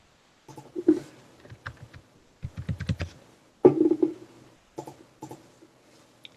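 Short bursts of typing on a computer keyboard, close and fairly quiet, in several separate clusters of keystrokes with pauses between.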